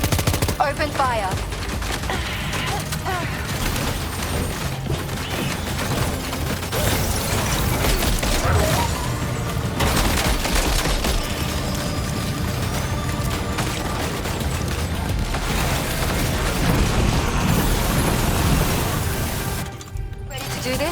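Sustained gunfire and bursts of automatic weapons in Death Stranding 2 rattle on loudly and continuously for the whole stretch, with booming impacts and mechanical clatter mixed into a dense battle din.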